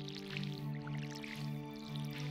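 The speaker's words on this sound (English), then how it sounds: "let's give these a little water again" In the farming game Stardew Valley, a watering can sprinkles crops with soft, repeated squishy drips and splashes over a steady tonal music bed, quiet and with no talk.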